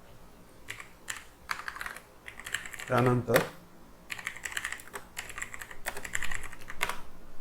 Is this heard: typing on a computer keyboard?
yes